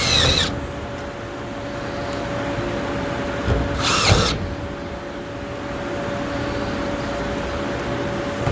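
A power drill drives screws to secure a perimeter cable boot, steady hum of machinery with short bursts of drilling, the loudest near the start and middle, over a constant background drone.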